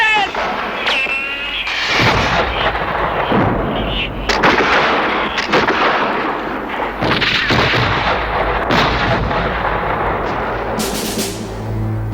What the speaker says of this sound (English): Fire the cannons!